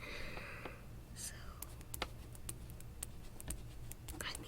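Pen scratching out notes during a pretend veterinary check-up on a guinea pig, a soft close-up patter of small ticks and strokes heard under quiet whispered talk.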